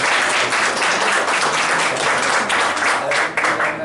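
Loud, dense clapping from a college audience marks Rotaract members completing ten years at an event held during a blood donation camp. Sustained applause from many hands continues close and steady throughout.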